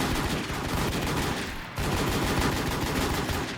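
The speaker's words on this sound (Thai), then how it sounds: "ต้องยิงเปิดหัวมันอะ" Dense, rapid gunfire rattles almost nonstop in the Warz zombie-survival shooter, loud and close, with a brief dip in the barrage just before the two-second mark.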